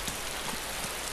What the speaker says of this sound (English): More bloody rain.